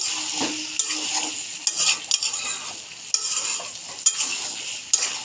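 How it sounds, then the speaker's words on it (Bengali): Taro and shrimp sauté in a pan after a little water is added, giving a steady sizzle with repeated sharp scrapes and clinks of a spatula stirring against the pot. "এভাবে অল্প অল্প জল দিয়ে দেব। জল দিয়ে কষতে থাকবো।"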